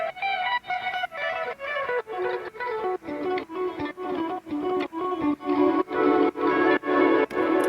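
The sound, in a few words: guitars added to the track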